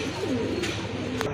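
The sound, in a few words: Giribaz pigeons cooing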